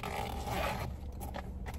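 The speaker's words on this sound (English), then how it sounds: "Nice chunky zipper." A chunky zipper on a leather bag is pulled along steadily for about a second, then followed by softer scraping and rustling of the bag.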